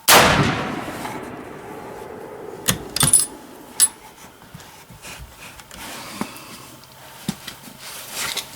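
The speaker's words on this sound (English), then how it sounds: "Last bullet. Fired today." A single loud rifle shot cracks at the very start and rings off, followed by a few scattered sharp clicks and handling knocks outdoors.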